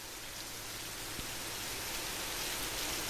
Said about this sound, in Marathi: जिल्ह्यातील दापोली, मंडणगड या दोनही तालुक्यांमध्ये काल रात्रीपासून जोरदार पाऊस पडतोय